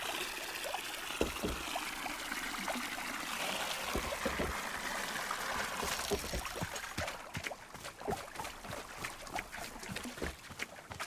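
Water being fetched in the game Wanderstop: a steady trickling, splashing stream with small drips and pours running throughout, close and moderately loud, with no talking.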